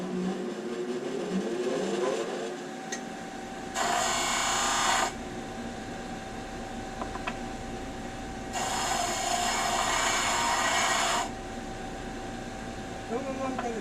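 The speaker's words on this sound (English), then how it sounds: "we're going to take these over to my disc sander, and we're going to sand them till the chalk's gone" Disc sander grinding small wooden glue-up half-ring pieces to remove chalk marks, in two loud bursts of a few seconds each over a steady low workshop hum, with faint ambient noise in between.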